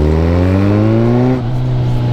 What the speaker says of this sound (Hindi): अब हल्का सा थ्रॉटल दूंगा, देख रहा,